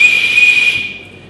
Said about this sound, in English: I blew my whistle.